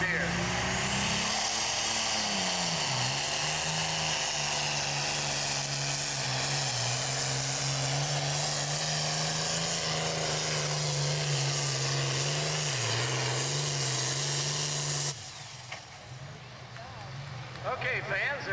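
Super stock pulling tractor with a single turbocharger, a loud sustained engine roar with turbo whine, pitch dipping and rising under strain, then cutting to quieter crowd noise near the end, with a voice speaking over it.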